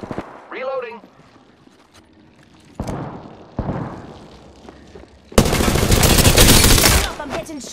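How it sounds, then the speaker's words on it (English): Gunfire in the game Apex Legends, with short scattered shots and then a loud, dense burst of automatic fire near the end, while a game voice calls out lines. "Opening fire on the enemy."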